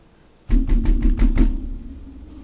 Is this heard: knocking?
yes